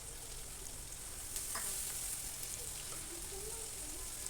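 Onion and garlic paste frying in a pan for a turnip, potato and fish curry, a steady close sizzle with occasional stirring scrapes, no voices.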